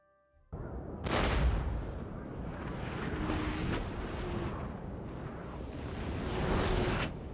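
Cannon artillery fire during a battle in the video game Napoleon: Total War: a dense, booming roar that bursts in after a brief quiet and rumbles on loudly and continuously, with sharper blasts layered through it.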